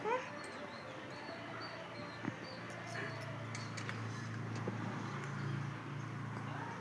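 A dog whimpers and yips softly during play, thin high cries recurring over a steady low background hum at moderate distance.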